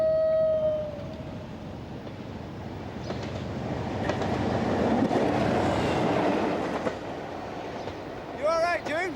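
A southbound train passes along the railway tracks, a broad rumbling roar that swells through the middle and fades, with short voices and squeaks near the end.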